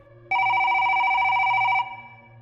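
A single steady electronic telephone ring sounds loud and close for about a second and a half, then cuts off and leaves a faint hum.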